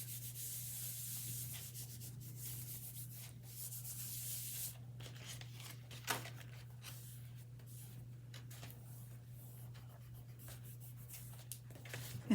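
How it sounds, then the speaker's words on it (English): Dry paper rubbing on the back of an embossed white-on-white daisy card, a soft steady scratchy friction continuing for several seconds under a constant low hum, with no talking. "I'm going to turn it over and give it a little bit of a back rub"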